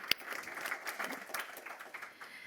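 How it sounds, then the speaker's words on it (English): Panel audience applauds a speaker: a steady wash of clapping from many hands in a conference room, moderately loud and continuous for a couple of seconds. "We can give an applause to Dave as well."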